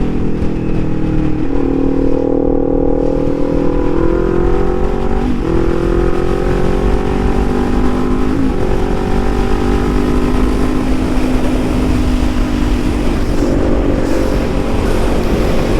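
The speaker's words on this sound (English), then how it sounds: "I just don't really like taking this bike on the highway because I don't want to be high RPM the whole time" A Suzuki GSX-R750 sport bike engine drones loud and close while riding at night, its steady high-revving whine rising and shifting through gear changes over rushing wind.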